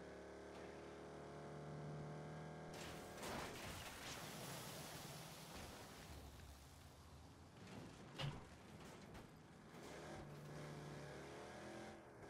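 A car engine in the Saints Row video game revs and roars loudly and steadily for several seconds, with no talking.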